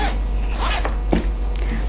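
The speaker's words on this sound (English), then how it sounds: "Just make sure that the zipper can open and close smoothly." A zipper on a sewn fabric pouch runs open and closed in a few quick, raspy pulls with short pauses between, close and clear over a steady low hum.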